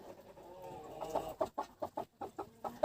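A young first-year broody hen settles onto turkey eggs, giving a quiet run of short, evenly spaced clucks close by.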